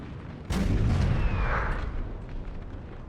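Artillery fires in Napoleon Total War, a single heavy boom with a rumbling tail that fades over a few seconds amid battle ambience.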